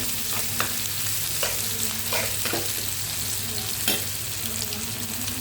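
Onions sizzle in a pan with salt, a steady close frying hiss broken by several scraping stirs of a spoon, with no talking.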